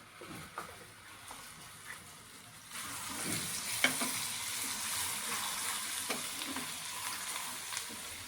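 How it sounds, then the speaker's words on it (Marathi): Red chili powder, turmeric and masala sautéing over a low flame for a dhaba-style shev bhaji: a steady oil sizzle that swells after a few seconds, with occasional spoon scrapes and taps in the pan. "मसाला छान परतून घ्यायचा आणि मंद आचेवर छान चांगलं होऊ द्यायचं"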